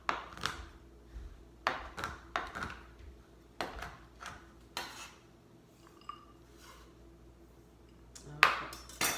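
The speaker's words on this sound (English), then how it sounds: "All I'm doing is just chopping it." A knife chops through chocolate on a board in a series of sharp, close knocks with short irregular gaps, with a faint metallic ring near the end.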